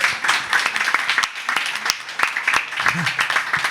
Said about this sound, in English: round of applause for yourselves, everyone